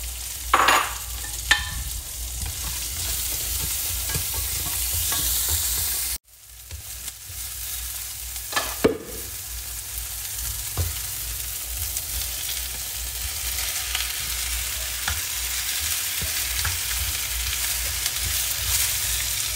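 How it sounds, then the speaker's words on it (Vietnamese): Shallots and garlic sizzle in a hot frying pan while a Vietnamese pork hock and shiitake dish is cooked, a steady close crackle with stirring scrapes, broken by a brief quiet gap before the frying resumes. "Bây giờ bắt đầu mình dùng là cái chảo này mình phi thơm hành tỏi đây."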